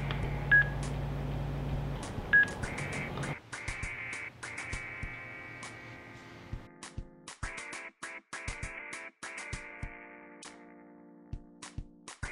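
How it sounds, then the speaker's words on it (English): A BLINC 3 Bluetooth motorcycle helmet gives a series of electronic beeps and chimes after pairing with a phone, short clean tones in a quick irregular run, close and clear with no talking. "you will hear a series of beeps."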